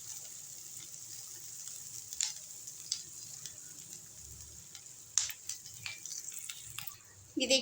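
Chopped onions fry gently in a pan for a noodle dish, a faint steady sizzle with occasional stirring clinks and scrapes, fairly quiet throughout.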